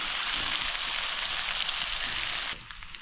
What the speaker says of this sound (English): Let's stir it.